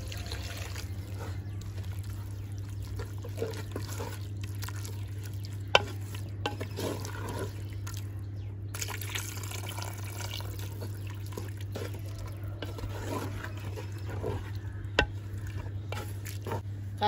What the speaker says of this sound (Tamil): அதை கொஞ்சம் தண்ணி சேர்த்துக்கிடலாம்